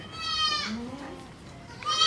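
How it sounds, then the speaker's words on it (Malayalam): Goats in a farmyard bleat, with a long wavering call up close followed by a deeper bleat and another cry starting at the end, amid faint background murmur. "കണ്ടോ മുറ്റത്ത് നിറയെ ആടുകൾ ഇവിടെ ഉണ്ട്"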